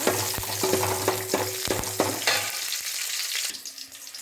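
Chopped onions and garlic sizzle in a hot pan for a South Indian fish curry, with a spoon stirring and scraping in a steady rhythm before the frying settles quieter, close up with no voices.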